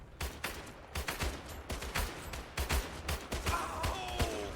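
Repeated gunfire from Usonia infantry units in the Iron Harvest strategy game, a rapid volley of sharp shots in bursts with brief pauses, loud and close, with faint battle effects in the background.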